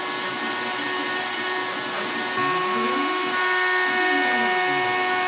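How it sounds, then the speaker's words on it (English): A CNC router cuts a metallic gold acrylic sheet for a guitar part, a loud, steady high whine with layered tonal hum and a low grinding note that rises and falls as the bit moves through the material. "you don't want to listen to 15 minutes of the router going"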